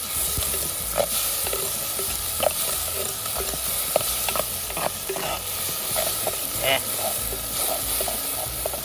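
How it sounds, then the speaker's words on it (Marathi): Chutney paste of coconut, onion and tomato is stirred and fried in oil over a wood-fired stove, giving a steady close sizzle broken by repeated spoon scrapes and knocks throughout. "ही चटणी छान आधी तेलात परतून घ्यायची"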